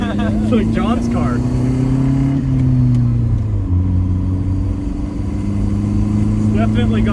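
Saab 900 with a manual gearbox and many vacuum leaks, heard from inside while driving: a loud, steady low engine drone that dips and shifts pitch between gears, with people talking over it.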